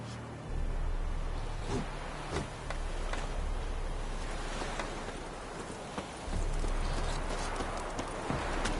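Roach, the horse in The Witcher 3, clip-clops with a steady rhythm of hooves in the game's outdoor world, the hoofbeats close and continuous under light background ambience.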